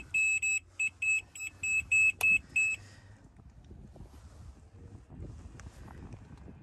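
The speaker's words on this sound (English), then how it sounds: "an alarm letting you know that the winch carrier is not running" An alarm on a TimberMax traction winch, used with a slope machine, sounds a string of sharp, evenly spaced electronic beeps, about eight in quick rhythm, warning that the winch carrier is not running, then stops, leaving wind noise outdoors.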